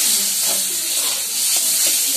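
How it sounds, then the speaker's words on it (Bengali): Water poured onto spiced potatoes already frying in a pan sets off a loud, close hiss of steam and sizzle that swells and eases over a couple of seconds. "আর এর মধ্যে আমি একটু জল দিয়ে দিলাম আলুগুলো সেদ্ধ হওয়ার জন্য"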